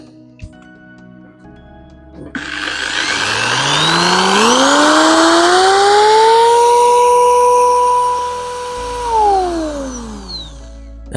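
A small electric motor being spun by hand to test whether it generates voltage whirs up to a steady high-pitched whine, holds it for several seconds, then winds down, heard close and alone.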